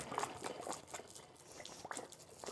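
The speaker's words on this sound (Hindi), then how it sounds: "यहाँ पर मैं अब पानी निकालने वाला हूँ आप देख सकते हो आवाज़ भी कर रहा है थोड़ा बहुत" Water gurgles and splashes as it flows out of a pipe by suction in a simple science setup, a faint, continuous liquid rush with small bursts and drips, no voices present.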